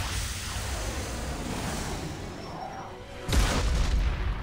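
A single heavy boom erupts in the Mass Effect 2 video game when gas is shot, coming after a stretch of steady rumbling ambience and followed by a lingering roar.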